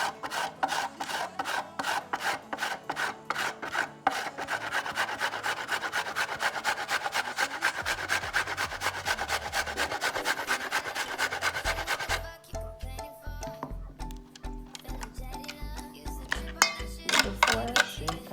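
A peeled carrot is rubbed hard against a grater in fast, rhythmic rasping strokes for coleslaw, loud and close, with a low thumping rhythm entering partway through.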